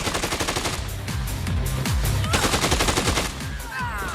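Gunfire in Dead Rising 2, a loud close burst of rapid repeated shots rattling almost without pause, then trailing into a few scattered echoing reports at the end.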